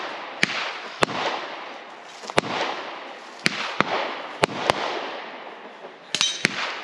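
Handgun shots from concealed carry pistols being test-fired outdoors, about ten sharp, loud cracks spaced irregularly, some in quick pairs, each followed by a broad rolling echo.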